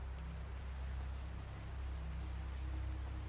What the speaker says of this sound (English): The autumn rain fell steadily on West 72nd Street when Eleanor Crane first arrived